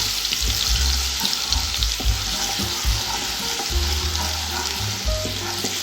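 Steady sizzling of garlic ginger paste frying in hot oil, with occasional stirring clinks and scrapes, close up and continuous.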